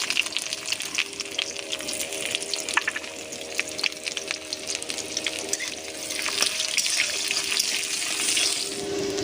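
Chopped onion frying in hot mustard oil in a kadai with bay leaf, dried red chilli and whole cumin, a continuous crackling sizzle with bursts of spitting and occasional stirring, growing slightly louder toward the end.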